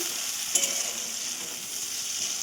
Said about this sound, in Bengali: পেঁয়াজটাকে একটু ভাজতে দিতে হবে।